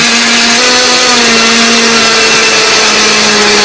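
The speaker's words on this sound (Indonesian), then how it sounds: "Di sini aku menghaluskannya menggunakan blender." A blender grinds spice paste, a loud, steady high-pitched motor whine that holds constant throughout, heard alone and close.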